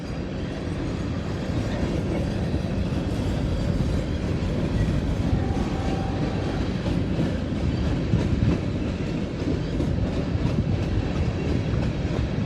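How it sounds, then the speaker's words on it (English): A long freight train rolls past on railroad tracks, giving a steady, loud, unbroken roar of wheels and cars with faint clicking, heard close by and alone without talk. "Alright, let's see this train go by."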